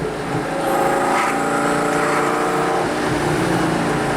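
A Lamborghini Gallardo's engine runs steadily and loudly up close, a sustained, slightly rising drone with no talking over it.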